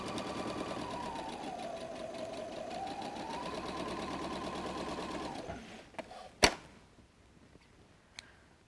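Sewing machine running a steady straight stitch at 2.0 length with center needle position through a messenger bag, a continuous whirring drone for about five seconds, then stopping, followed by a few sharp clicks and taps.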